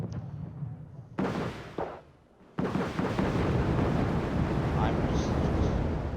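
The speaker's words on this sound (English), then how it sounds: "Ground firing my rocket pods at these Shai-Chet 13" Rocket pods ground-firing in the Wargame real-time strategy game, a sudden loud rushing salvo after a quieter stretch, followed by sustained roaring blasts and rumbling impacts; a voice talks over part of it.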